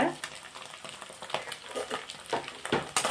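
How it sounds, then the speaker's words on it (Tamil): Chopped onion and green chillies sizzle in a hot pan for chicken fried rice, with frying crackle under repeated scraping stirs and light clinks of a spatula, close and steady. "இதை இப்போ நல்லா நம்ம வதக்கி விட்டுக்கலாம்"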